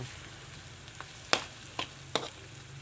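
Stir-frying of palo stew spices in a pan, a soft continuous sizzle broken by a few sharp scraping clacks of the utensil against the pan, close up with no talking.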